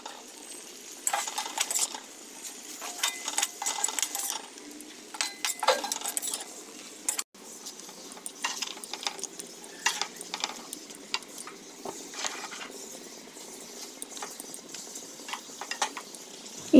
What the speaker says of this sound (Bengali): মাথাগুলো দেওয়ার সাথে সাথে কড়াইটা ভর্তি হয়ে গেছে, নাড়ানো যাচ্ছে না, তাই অন্য কড়াইতে শিফট করে নিচ্ছি।